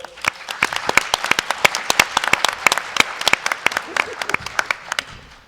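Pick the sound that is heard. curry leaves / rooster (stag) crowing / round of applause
round of applause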